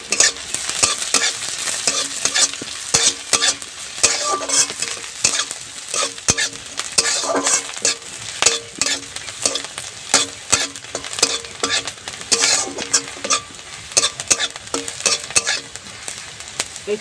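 Chopped chili and ginger fry in a pan, with a continuous loud sizzle broken by frequent scraping stirs from a spoon or spatula, with no talk over it.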